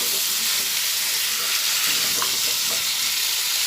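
Salted pumpkin fries in a pan while being stirred, producing a loud, dense, continuous sizzle with soft scraping from the spoon and no talking.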